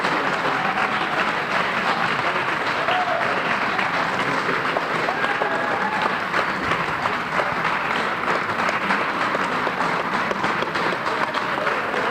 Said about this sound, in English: How about a nice round of applause for our seniors and their families?